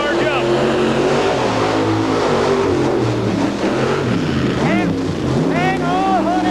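Engine revving loudly at a 1990 monster truck jamboree in Rockford, Illinois, a continuous roar that rises and falls while an announcer talks over it.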